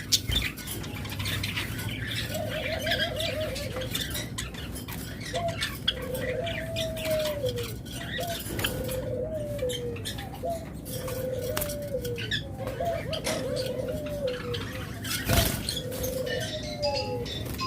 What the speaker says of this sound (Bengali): এটা হলো সিলভার কালার জাবা পাখি